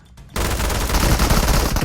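Rapid gunfire in the mobile shooter PUBG Mobile during an indoor house fight, a dense continuous burst of loud overlapping shots that starts abruptly after a brief quiet moment.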